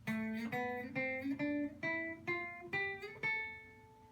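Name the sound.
guitar natural minor scale on one string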